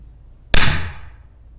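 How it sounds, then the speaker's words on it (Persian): A match firecracker explodes inside a Marshall speaker, giving one sudden loud bang with a broad burst that dies away into a short ringing decay over about half a second. "یه دونه ترقه کبریتی بندازیم داخلش"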